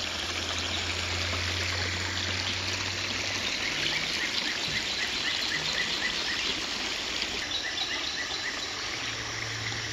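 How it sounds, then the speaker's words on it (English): Stone Creek, a tributary of the Platte River, trickling steadily in the background while crickets and insects chirp loudly over it, with a low hum drifting in and out. "Stone Creek, a tributary of Platte River."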